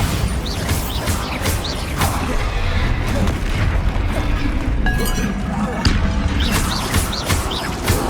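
Bombarda blasting spell going off in Hogwarts Legacy, a dense, loud rumble of booming impacts and crashing debris that fills the whole stretch, with voice-like calls from combat over it.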